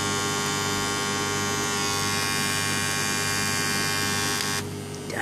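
A big high-current transformer welding metal gives a loud, steady electrical buzz with a strong hum. It runs continuously for about five seconds and eases slightly just before the end.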